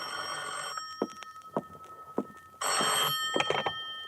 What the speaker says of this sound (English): At 10:05, my phone rang.